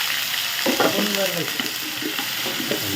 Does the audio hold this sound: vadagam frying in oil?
yes